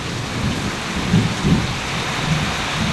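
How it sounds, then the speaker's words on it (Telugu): Heavy rain pouring steadily, with low rumbles of thunder swelling a couple of times beneath the constant hiss of the downpour. "మెరుపులు, ఉరుములు."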